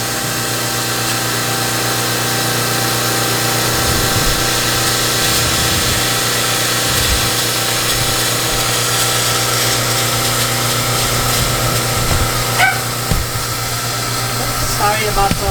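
An xTool laser cutter working a wooden horse mandala gives a steady mechanical hum and droning fan noise throughout, moderately loud and close, with small clicks and shifts near the end.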